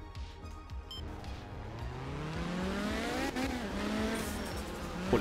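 A rally car is driven in the Art of Rally video game, with its engine note rising through the gears in rising sweeps, a rough rumbling underneath and tire noise, all at a moderate distance.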